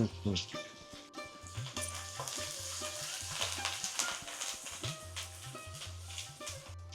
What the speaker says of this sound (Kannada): ಇವಾಗ ಹಸಿಮೆಣಸಿನ್ಕಾಯಿ, ಸ್ವಲ್ಪ ಕರಿಬೇವು ತೆಗೆದಿಟ್ಕೊಂಡಿದ್ವಲ್ಲ, ಕರಿಬೇವು, ಸ್ವಲ್ಪ ಶುಂಠಿ, ಇದಿಷ್ಟು ಹುರಿಯೋಣ.